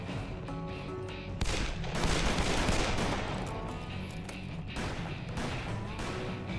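Rapid gunfire in the Western shooter game Call of Juarez: Bound in Blood, dense bursts of shots and cracks overlapping continuously, loud and close throughout.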